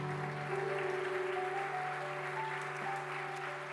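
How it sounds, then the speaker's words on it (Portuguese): Congregation clapping during a church service, a steady, fairly quiet wash of applause sustained throughout, with sustained keyboard or organ tones held underneath. "Você pode aplaudir a palavra do Senhor"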